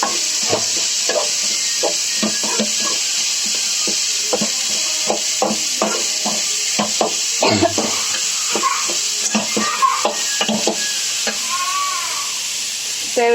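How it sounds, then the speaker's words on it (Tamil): Boiled cluster beans being stirred and fried in a pan, a loud, continuous hiss of sizzling oil broken by frequent scraping and clattering strokes of a spoon, close up and with no talking. "கொத்தவரங்காய் போட்டு நல்லா கிண்டிக்கலாம்."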